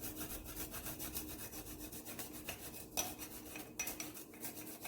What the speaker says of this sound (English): grate my garlic in it.